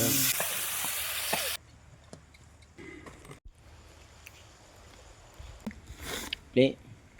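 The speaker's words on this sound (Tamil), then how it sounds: "Making நண்டு வறுவல்." Crab fry stirred in a sizzling pan, a loud burst of frying at the start dropping to a quieter crackle with scattered scrapes, while people talk intermittently.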